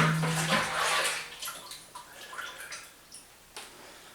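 Home-brewed beer pours from a jug through an angled funnel into bottles, a close liquid gush at first that breaks into splashy trickles and drips; no voices.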